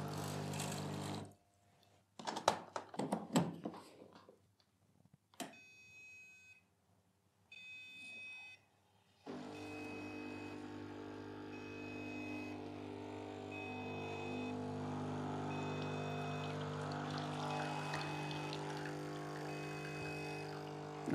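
A Sage Bambino Plus espresso machine runs hot water to warm a cup and its group head. A few scattered clicks and knocks come first, then a steady, loud buzzing pump hum carries on without a break.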